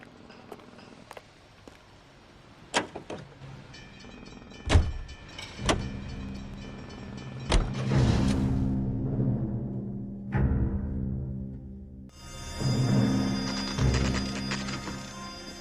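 A car in L.A. Noire starts up and moves off, with several sharp mechanical clicks and thumps like doors and handles, then a rising engine hum that swells, dips, and returns in waves.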